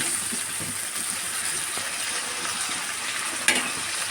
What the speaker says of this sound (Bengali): আমাদের মশলাটা কষতে থাকুক